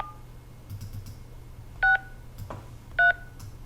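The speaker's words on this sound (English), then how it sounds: "So I enter my social insurance number with the phone keypad" A telephone keypad beeps out DTMF tones while a number is entered during an automated call to the Canada Revenue Agency: two loud, distinct tones spaced about a second apart, with softer key clicks between them.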